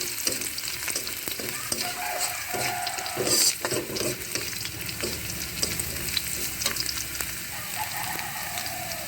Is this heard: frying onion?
yes